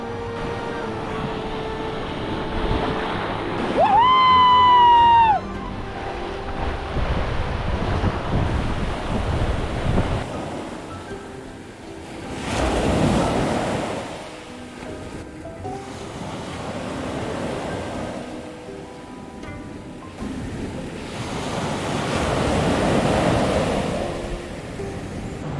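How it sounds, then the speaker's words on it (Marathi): Sea waves break and wash ashore at a hidden cove of Mochemad beach in Vengurla on the Konkan coast, swelling and receding in several loud surges amid steady wind rumble. "त्या बेटवरून या समुद्राला कॅप्चर करायचा प्रयत्न करू."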